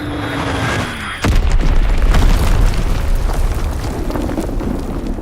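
Fritz X bomb explosions in Call of Duty WW2 during a multiplayer team deathmatch: a single sudden, heavy blast after a second, then a long loud rumbling roar that slowly fades.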